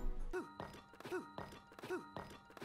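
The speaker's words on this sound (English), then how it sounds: "if you hear some sort of clonk sound like this" Shield clonk from Breath of the Wild, a repeated hollow thunk heard about four times in a fast rhythm over faint game ambience, fairly quiet and with no speech.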